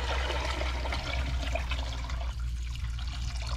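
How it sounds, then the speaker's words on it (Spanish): Water pours steadily into a cooking pot in a home kitchen while a soup with peas is prepared, a continuous close splashing rush that eases slightly near the end. "Ya voy a echar agua."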